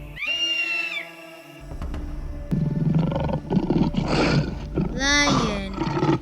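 A lion roars repeatedly in loud, drawn-out growling calls close by, layered over rumbling wild-animal noise with a brief higher cry at the start.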